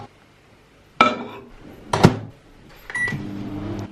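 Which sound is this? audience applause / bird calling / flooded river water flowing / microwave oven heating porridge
microwave oven heating porridge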